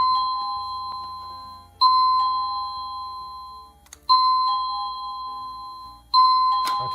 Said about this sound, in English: when you unplug it, it's going to default to the ding dong.